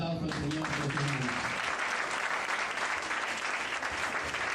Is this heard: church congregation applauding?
yes